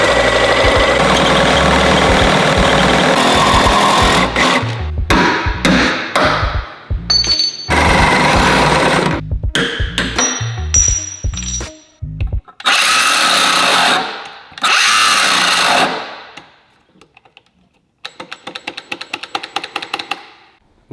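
Milwaukee angle grinder fitted with a cutoff wheel cuts through metal in loud, harsh bursts, stopping and restarting repeatedly, with sharp clanks and rattles between runs and a fast ticking wind-down near the end.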